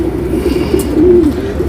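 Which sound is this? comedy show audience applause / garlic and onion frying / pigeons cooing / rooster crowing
pigeons cooing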